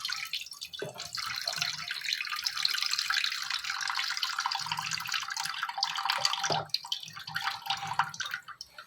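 Tamarind mixture poured into a pan on the stove for a prawn curry: a steady splashing, trickling pour of liquid, close and moderately loud, with a couple of brief clunks partway through.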